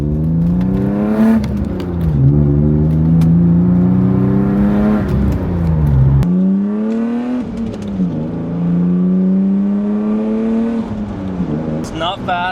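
A diesel-swapped BMW E36 drives on a road at sundown, its engine droning steadily with rising and falling revs through gear changes, heard close from inside the car with a voice talking over it.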